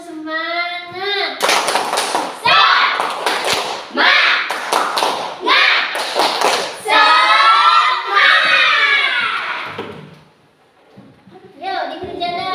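An elementary classroom doing the rhythmic 'tepuk semangat' clapping cheer, bursts of sharp patterned claps alternating with children chanting and a teacher's voice, near and lively, ending with a short pause and more voices.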